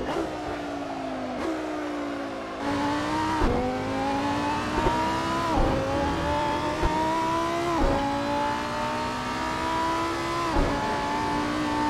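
A Lamborghini Huracan Super Trofeo race car howls around Estoril in the Assetto Corsa racing game, climbing through the gears again and again with sharp upshift breaks, loud and steady with no talk.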